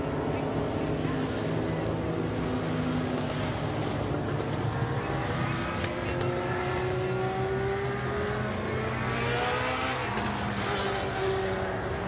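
Race cars roaring around Midvale Speedway during a Saturday Fall Classic event, a continuous loud multi-engine drone with shifting pitches as cars circle the track, with a commentator talking over it.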